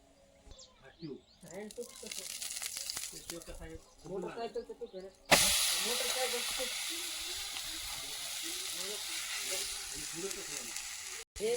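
Dhapate, a flatbread, frying in oil on a pan over a wood-fired stove. Soft crackles under close talk give way to a loud, steady sizzle that continues as the speaking goes on.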